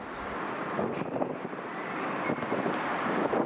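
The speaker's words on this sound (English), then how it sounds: "The rest of the day was very windy." Wind blows outdoors in Hobart, Tasmania, a steady, fairly faint rushing buffet against the microphone with no voices.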